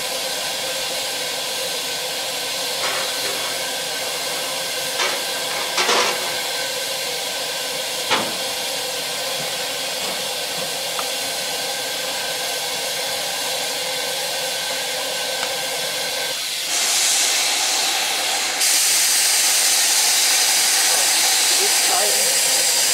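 Steam locomotive UH-102 of the Bregenzerwaldbahn museum railway hissing steadily as it rolls slowly toward its train after taking on water, a loud continuous hiss with a few faint clanks and a louder burst of steam near the end.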